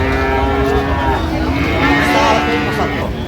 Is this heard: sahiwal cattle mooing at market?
yes